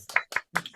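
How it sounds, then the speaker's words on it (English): Over a Zoom call, four sharp hand claps land in a quick, uneven rhythm, close and isolated rather than a crowd's applause. "So I think a general round of applause."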